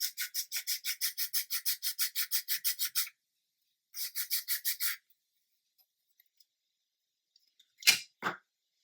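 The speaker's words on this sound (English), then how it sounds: "we're going to sand that smooth next job." Humbrol putty on a 1/400 Queen Mary 2 model is hand-sanded in fast, even rasping strokes, about a dozen in a row, then a shorter run after a pause and two louder scrapes at the end.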